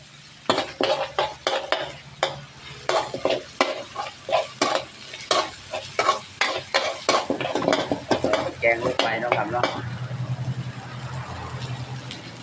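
Curry paste stir-fried in a pan for chicken curry stir-fry, with crackling sizzle and repeated scraping strokes of a spatula, close up, settling into a steady sizzle toward the end.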